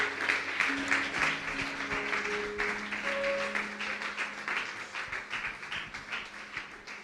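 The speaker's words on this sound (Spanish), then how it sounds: "Puedes darle un aplauso a Dios, que Él es bueno" Church congregation at a Spanish-language Sunday service applauding, a thick continuous patter of many hands that holds steady and then slowly loosens and fades slightly near the end.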